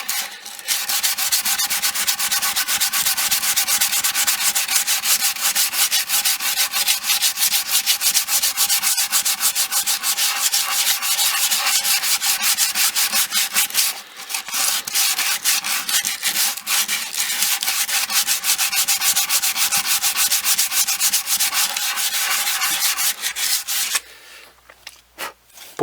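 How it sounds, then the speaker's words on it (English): Continuous hand sanding of the wooden body of a Les Paul style guitar, a loud, steady rasping scrub with rapid back-and-forth strokes, a brief pause midway, and quiet at the very end. "Bored of me sanding yet?"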